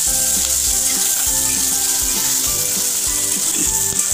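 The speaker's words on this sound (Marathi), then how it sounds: "कांदा छान आपल्याला परतून घ्यायचा आहे।" Onion and green chillies sauté in an oiled pan for ukadpendi, sizzling loudly and steadily while a spoon scrapes and stirs them in repeated strokes.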